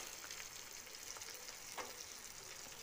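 Chicken spiced with salt, turmeric and chili powder sautés in a pan, a quiet, steady hiss of frying with a few faint scrapes of stirring.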